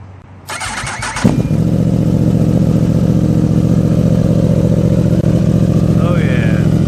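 A 2015 Yamaha R1 motorcycle fitted with a Two Bros exhaust cranks over briefly, then catches and settles into a loud, steady, deep idle close by, with a faint voice near the end.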